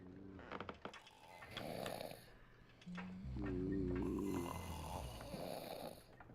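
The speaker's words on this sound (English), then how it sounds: "Sounds of snoring are rather obnoxious." A sailor snores in the video game The Pale Beyond, a few slow, rumbling breaths in and out, close and fairly loud, with faint creaking wood in the background.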